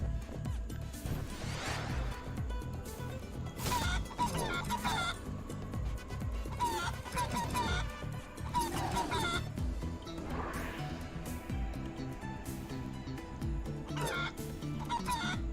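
Chicken clucking in the video game Guacamelee 2, repeated bursts of clucks and squawks over a steady game soundtrack.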